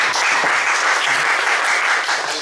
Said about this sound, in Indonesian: Silakan, mari kita berikan tepuk tangan.